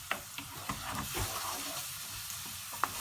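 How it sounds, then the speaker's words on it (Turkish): Onions sauté in oil in a pan with a close, soft sizzle, and a few sharp spoon scrapes and stirs break through it now and then. "Yağda kavuruyoruz. Biraz kavrulacak."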